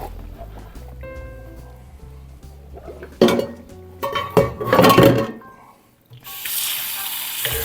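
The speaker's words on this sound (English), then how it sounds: "We're going to go ahead and strain it." Cooked pasta is strained from a metal pot, with clanks and clinks of cookware, then a loud rushing pour and splashing of water in bursts, ending in a steady hiss.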